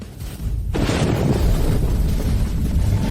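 Buried black gunpowder detonating in an animated scene: a sudden deep boom that swells into a long, rumbling roar of blast and debris, loud and close, fading only at the very end.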